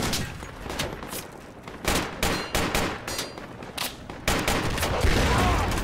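Gunfire in the military shooter game Project Reality, a close, dense run of rifle and machine-gun bursts that repeats with short gaps and builds into a steady, heavy barrage near the end.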